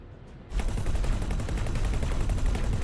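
Sustained rapid weapons fire on turrets in the space game X4: Foundations, a dense, loud rattling barrage that erupts after a brief quiet moment and keeps hammering steadily to the end.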